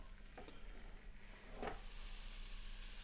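Bread, butter side up, sizzles on a new George Foreman grill from Aldi with a soft, steady hiss, a couple of faint clatters early on, then the frying noise swells slightly and holds, quiet throughout.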